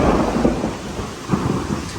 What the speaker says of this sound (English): now it's storming